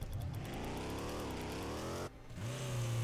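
Car engines in Rocket League rev in steady, rising tones, close and fairly quiet, cutting off briefly before a low rumble returns.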